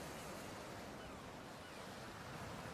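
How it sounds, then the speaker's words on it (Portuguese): Rough sea surf pounds the eroded cliffs of the west coast of Mainland in Orkney, Scotland, a continuous loud wash of breaking waves mixed with wind buffeting, with no voices. "Os penhascos sofreram muita erosão e a terra é esculpida pelo mar agitado."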